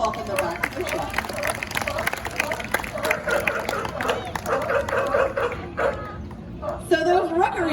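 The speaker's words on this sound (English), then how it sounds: "the bull or the male sea lions are constantly making that vocalization" Male sea lion bulls barking repeatedly at an aquarium show, loud, dog-like calls overlapping throughout under a noisy crowd and a presenter's voice.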